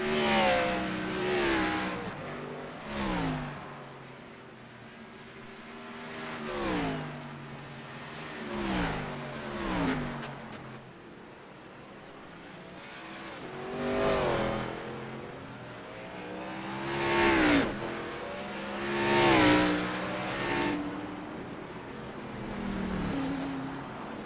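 Race cars lap the Charlotte Roval in a sim racing game, engines repeatedly rising and falling through gear changes as cars pass in a series of loud, rhythmic bursts, with no voices over them.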